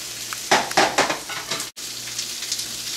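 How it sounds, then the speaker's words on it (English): Tilapia fries in a pan with a close, crackling sizzle and several bursts of louder spattering as the fish is moved, broken by a brief silent cut, then a steadier sizzle. "the tilapia in there, and I'm going to flip it around"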